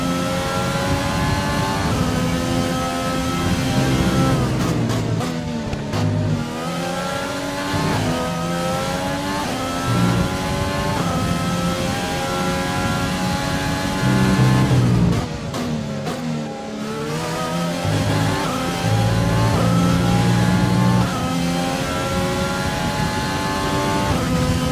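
F1 race cars roaring in an Xbox Series X Formula 1 racing game, high-pitched engines rising and falling steadily through gear shifts, with brief dips at around five and fifteen seconds as the cars brake and accelerate again.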